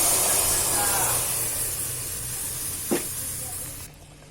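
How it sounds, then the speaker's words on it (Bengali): Milk goes into hot caramel in a pan for Bogura-style sweet yogurt, giving a strong steady hiss that slowly fades, with a short scrape partway through before it cuts off. "আমি এখন দুধটা দিয়ে দিব অল্প একটু দুধ দিয়ে দিব"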